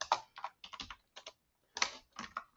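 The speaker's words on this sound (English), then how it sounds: "once I get done typing this out" Someone types on a computer keyboard in quick, close bursts of crisp key clicks, with brief pauses between clusters of keystrokes.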